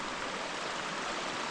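Water streaming steadily through a channel near beaver dams, a continuous soft broadband rush with no other sounds, fairly faint and steady throughout.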